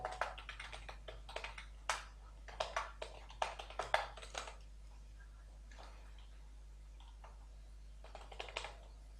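Someone typing an email address on a computer keyboard, a quick run of close, crisp key clicks that slows into a few scattered taps over a low steady hum.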